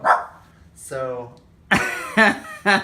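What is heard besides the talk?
dog barking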